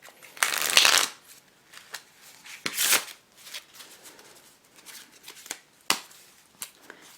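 A deck of playing cards riffled and shuffled in several bursts, close up, with softer card handling and taps between the louder shuffles.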